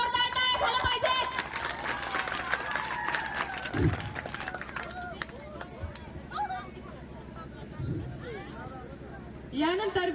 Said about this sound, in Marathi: दादांसाठी एकदा जोरदार टाळ्या झाल्या पाहिजेत